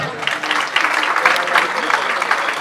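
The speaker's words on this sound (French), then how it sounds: "Merci d'applaudir Madame Safiatou Thiam." Steady applause from a graduation ceremony audience honoring Madame Safiatou Thiam, dense and continuous clapping filling the hall at close range, with faint voices underneath.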